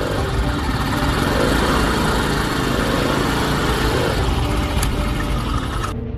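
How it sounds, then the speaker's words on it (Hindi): A motorbike engine in a cartoon, a steady buzzing drone that holds loud and even throughout, without any talk. "उन्हें एक बाइक की आवाज़ आती है।"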